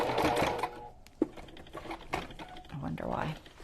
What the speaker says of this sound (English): My sewing machine is not the happiest.